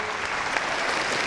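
An audience applauds warmly as a film's cast comes on stage: a thick, even burst of many hands clapping at close range, with no voices over it.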